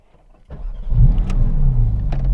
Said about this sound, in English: So I'll turn the car on now.